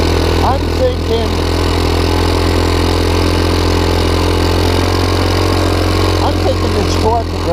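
A 150cc GY6 engine on a wide-stance four-wheel ATV runs steadily at a low, even drone, loud and continuous, with a few faint incidental noises on top.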